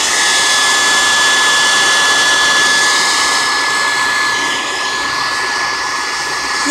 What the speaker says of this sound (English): Put the blow dryer on low, always.